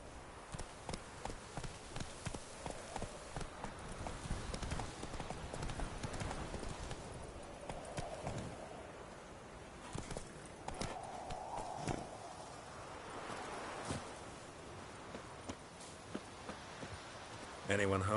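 Hooves of a horse ridden at speed in the Witcher 3 video game clatter in a rapid, continuous clip-clop rhythm for the whole stretch, moderately close, with a few louder thuds and rustles mixed in.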